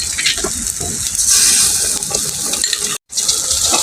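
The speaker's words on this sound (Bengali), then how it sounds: "এই জলটাকে এখন আমি শাকের উপর দিয়ে দিব।" Tamarind water poured over taro leaf greens in a pot, a steady close splashing pour with a brief break near the end, no voices.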